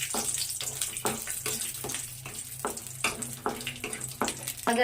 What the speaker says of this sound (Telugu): ముందుగా పరవాణంలోకి కిస్మిస్, జీడిపప్పులు వేయించి పెట్టుకోవాలి